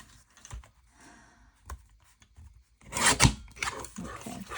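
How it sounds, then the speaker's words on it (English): Paper craft piece being cut to remove printed wording, heard as a few soft, scattered snips and rasps, then a louder burst of close crinkling and cutting noise near the end; no talking. "I'm going to cut the words off."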